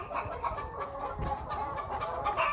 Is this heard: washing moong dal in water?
no